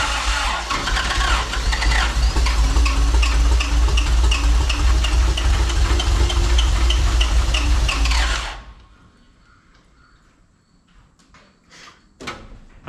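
A junkyard Toyota Land Cruiser FJ40 engine runs on the starter, a loud, rough, steady roar for about eight seconds that cuts off abruptly, followed by quiet scattered clicks and rattles.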